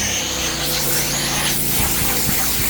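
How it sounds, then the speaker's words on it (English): A Mini Mite airless paint sprayer runs during a tiny-home trailer rebuild, giving a steady, close, broadband hiss of atomized paint that stays even for the whole short stretch. "airless sprayer"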